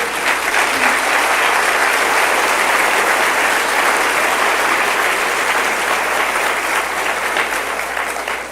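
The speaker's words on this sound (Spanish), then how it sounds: "¿Cuántos le dan un aplauso al Señor?" A church congregation applauds the Lord during a Spanish-language sermon, dense sustained clapping that stays loud throughout and tapers slightly at the close.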